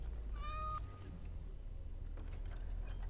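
A cat meows once in Dragon Age: Awakening, a short clear in-game meow over a steady low game ambience.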